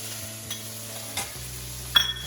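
A spoon scrapes through corn and onions frying in a pan for Maggi noodles, giving a few soft stirring scrapes over a low steady sizzle, close by, with no voices.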